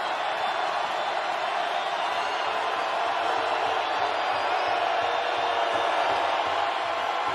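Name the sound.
football stadium crowd getting loud again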